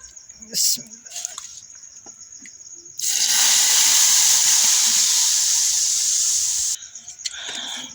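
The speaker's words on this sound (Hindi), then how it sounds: "और ये तड़का लगाने लगी हूँ मैं।" A sudden loud burst of sizzling as spices hit hot oil for tempering kadhi, hissing steadily for a few seconds before dropping off, with some kitchen clatter around it.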